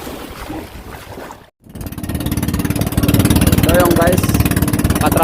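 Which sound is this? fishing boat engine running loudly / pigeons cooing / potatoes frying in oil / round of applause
fishing boat engine running loudly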